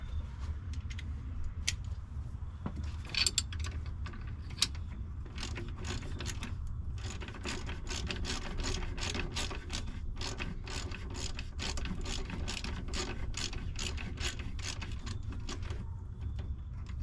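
A ratchet with a 10 mm socket works a battery terminal nut on a 2012 Nissan Rogue 2.5 S, giving rapid close clicking in repeated runs over a low hum.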